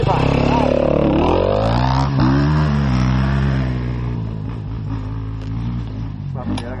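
An enduro motorcycle engine turns over and catches, then revs loudly with rising and falling pitch before settling into a steady idle, close by.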